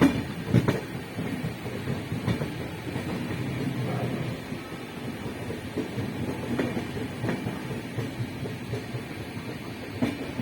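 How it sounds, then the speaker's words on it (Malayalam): Antyodaya Express passenger train running on the line at night, a continuous rumbling roll with rhythmic clickety-clack of wheels over rail joints, heard from inside at steady, moderate loudness. "രാത്രി 12:05 അന്ത്യോദയ എന്ന് പറയുന്ന ഒരു എക്സ്പ്രസ് ഉണ്ട്. അതിനാണ് നമ്മൾ യാത്ര ചെയ്യുന്നത്."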